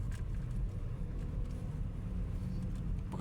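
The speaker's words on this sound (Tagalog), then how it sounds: "Pakarami ng sasakyan mga kababayan" Steady low rumble of road traffic with many cars queuing on the road toward C5 near SM Parañaque mall, a dense continuous engine drone close by with no distinct passes.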